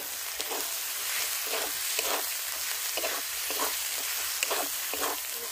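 Spice paste with turmeric and chili powder frying in a pan, a steady close sizzle with rhythmic stirring scrapes at regular intervals, no voices.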